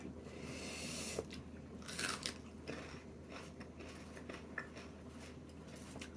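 Close, quiet crunching and biting of Japanese green onion eaten with cream cheese, with a few sharper crisp bites standing out against a soft, steady background.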